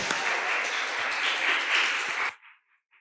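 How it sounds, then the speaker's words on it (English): A student audience gives a burst of applause, a dense, loud wash of clapping that runs for a couple of seconds and then cuts off abruptly, leaving a brief faint tail. "Big round of applause."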